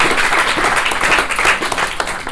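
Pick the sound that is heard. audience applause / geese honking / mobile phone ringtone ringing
audience applause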